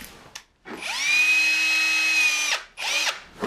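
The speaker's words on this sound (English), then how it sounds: "And I start with a pilot drill, which is about a 3mm drill," A cordless-style power drill with a 3mm pilot bit spins up and bores into wood, holding a steady high whine for about two seconds, then stops briefly and starts again, close and loud.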